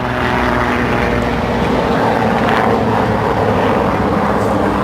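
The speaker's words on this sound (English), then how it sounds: "Helicopter." A helicopter flying overhead gives a loud, steady droning roar of engine and rotor that fills the whole clip without pause, no speech over it.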